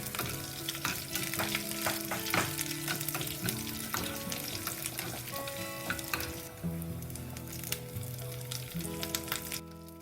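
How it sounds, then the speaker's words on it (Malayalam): Dried red chilies, curry leaves and shallots crackle and sizzle loudly in hot oil with popped cumin seeds, a tempering for Kerala beef curry, with sharp spits over the hiss and background music playing throughout. "അതൊന്ന് പൊട്ടിക്കഴിയുമ്പോൾ വറ്റൽമുളകും കറിവേപ്പിലയും കൊച്ചുള്ളിയും ഒക്കെ ഇട്ട്"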